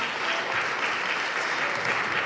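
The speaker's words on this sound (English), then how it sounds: "another round of applause for that incredible performance by the Fresno State Faculty" A concert audience applauds after a Fresno State Faculty Brass Quintet performance at the Fresno City College Brass Bash, a dense, steady roar of many hands clapping throughout.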